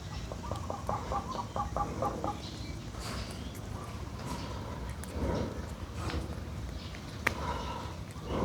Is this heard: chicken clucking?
yes